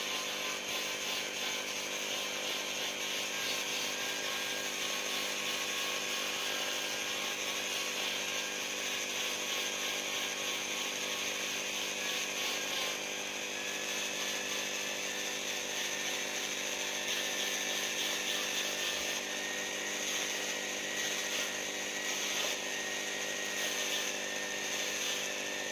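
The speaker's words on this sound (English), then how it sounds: "hold the drill steady and actually work the lens" A steady, high-pitched electric drill motor whine runs continuously with a slight grinding edge as it polishes a Jaguar S-Type headlight lens, loud and close, with no talking.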